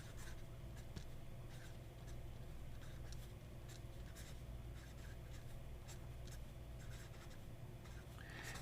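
A Joya Partenope fountain pen with a steel nib scratches across paper in short, repeated strokes, faint and close, over a steady low background hum.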